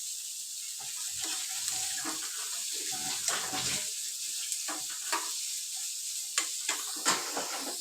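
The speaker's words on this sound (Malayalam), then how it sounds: "പച്ചമുളക് കീറി സവാളയും ഇട്ടിട്ടുണ്ട്. ഇത് നല്ലപോലെ മൂപ്പിച്ചെടുക്കണം." Green chilies and onion frying in a pan for an egg curry give a steady, close sizzle, with scattered clinks and scrapes from stirring that grow sharper toward the end.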